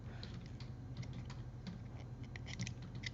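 Quick, irregular clicking of fingers on a computer keyboard in a quiet room during a model railway build, steady and close with no voices.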